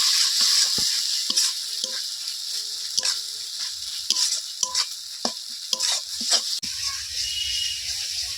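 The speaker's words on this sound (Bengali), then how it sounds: "মশলাটা ভালোভাবে কষিয়ে নিয়েছি" Masala spice paste sautéing in a pan, a bright hiss of frying with repeated scraping clicks of a spatula stirring at uneven intervals, close and fairly loud, ending in a softer simmer.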